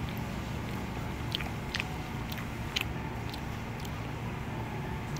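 Someone bites and chews raw tuna belly sashimi dipped in soy sauce at an all-you-can-eat tuna restaurant, soft irregular crunchy mouth sounds over a steady room hum, no talking.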